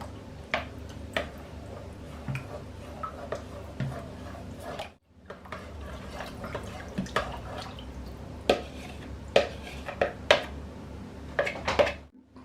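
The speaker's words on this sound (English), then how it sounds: "Then slowly stir the mixture back into the pan." A vegetable mixture for Finnish vegetable soup is stirred back into a cooking pan: sparse light clicks and taps of a utensil against the pan, close and fairly quiet, with a short pause partway through.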